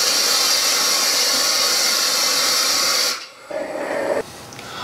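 A homemade propane forge fired by a weed burner gives a loud, steady roaring hiss that cuts off abruptly, then returns as a quieter, fainter hiss.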